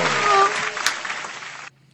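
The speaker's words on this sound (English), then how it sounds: "give a bigger round of applause to Chad" A small audience claps for Chad, a guest from Monongah, at a live radio show, the broadband applause steady for under two seconds before cutting off abruptly, with a faint voice and tone mixed in early.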